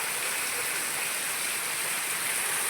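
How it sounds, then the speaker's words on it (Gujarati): Heavy monsoon rain pours down in a dense, unbroken hiss, loud and close, with no voices over it. "આ બધે પાછો વરસાદ આવે જ મિત્રો."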